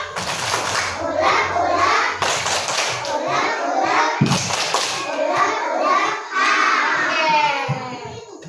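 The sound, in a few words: children doing a rhythmic clapping game (tepuk sambal)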